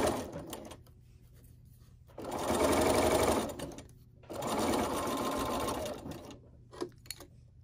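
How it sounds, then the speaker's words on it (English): A sewing machine runs a quarter-inch seam on a quilt block in two sustained loud bursts of rapid stitching, separated by short pauses with quiet handling noise and no talking. "Stitching a quarter inch along here, coming all the way down to the bottom point, staying at a quarter inch."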